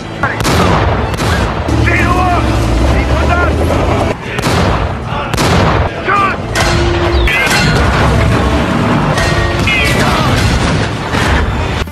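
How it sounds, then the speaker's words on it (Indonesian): A tank battle from a World War II war film, with heavy cannon blasts and rattling gunfire. The booms are loud and repeated, and mechanical clatter fills the gaps in a dense, continuous barrage. "Baku tembak pun terjadi."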